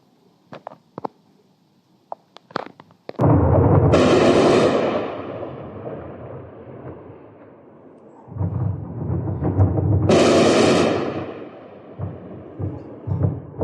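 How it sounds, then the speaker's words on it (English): Several sharp distant booms at first, then two long, loud roaring blasts that rumble and fade, with heavy low rumbling between them and after, from explosions in Sochi. "There were also explosions in Sochi."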